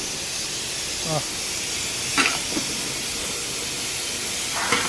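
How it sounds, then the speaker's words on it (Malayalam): Steam hisses steadily as a large 10 kg pot of biryani is opened, a broad continuous whoosh with brief voice interjections and a few clinks over it. "ബിരിയാണി പൊട്ടിക്കുകയാണ്"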